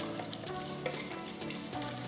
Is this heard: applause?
no